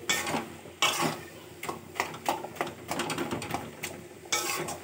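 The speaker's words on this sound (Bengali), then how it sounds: "আলু আর কাঁকরোলগুলোকে না একটু খুন্তি দিয়ে একটু মিশিয়ে নিচ্ছি" A spatula stirring potatoes and pointed gourd in a pan, with irregular scrapes and clinks against the metal, close and fairly quiet, no talking.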